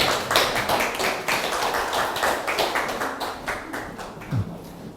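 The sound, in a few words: applause welcoming a lecturer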